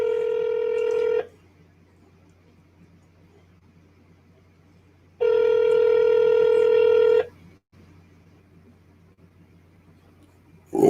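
Telephone keypad dialing tones, two bursts of steady multi-pitch tones about a second and two seconds long, separated by quiet gaps, loud and close with no voice.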